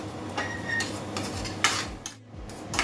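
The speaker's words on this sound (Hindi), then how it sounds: "1 मिनट तक ऐसे चलाते रहेंगे।" A spoon stirs paneer malai curry with fresh cream in a pan, giving soft scraping and clinks against the metal over a low background hum, with no talking.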